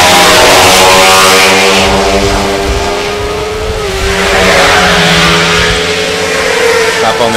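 A pack of 250/300 production motorcycles races past on a Southern Downs road circuit, engines loud and buzzing as they accelerate through the gears, with a race commentator talking over them.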